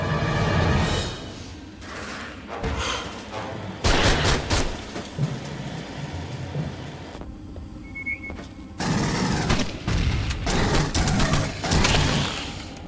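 Gunfire in the video game Aliens: Colonial Marines comes as dense bursts of rapid shots and booms, loud and continuous with brief lulls and mixed with game sound effects.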